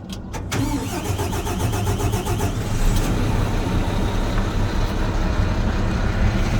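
A Fendt 1050 tractor fitted with triple wheels cranks briefly and fires up, then settles into a loud, steady diesel rumble close by with no talking.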